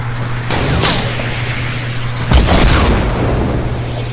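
Booming rocket blasts and bursts of gunfire from an online shooter game, with a couple of loud sharp impacts over a continuous rumbling battle background.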